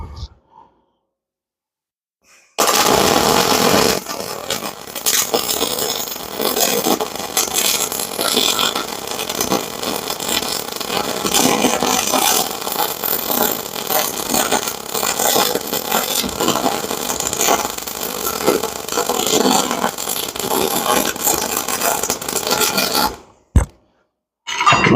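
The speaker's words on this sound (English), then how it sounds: "That's putting down some really pretty welds." Continuous crackling hiss of a Yeswelder DP200 welder laying a bead on slightly rusty steel, pushed hard for a duty-cycle test, steady and close for about twenty seconds after a quiet start, cutting off near the end.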